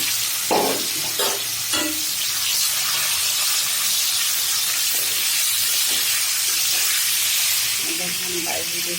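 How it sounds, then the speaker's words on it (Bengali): Chicken fries in hot oil in a burnt kadai for a chicken and bottle gourd curry, producing a loud, continuous crackling sizzle close by, with a few clunks of stirring near the start and a voice briefly underneath. "তো চলেন চিকেনটা ভেজে নিচ্ছি"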